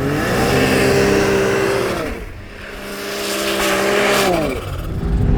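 A 2026 Ski-Doo Renegade snowmobile engine revs loud and close, holding high, dropping as the throttle eases, then climbing again in a second surge.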